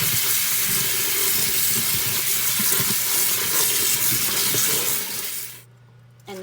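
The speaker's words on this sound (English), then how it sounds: "Washing all the potatoes." Tap water running steadily into a kitchen sink while cut potatoes are washed, close and loud rushing flow that stops abruptly near the end.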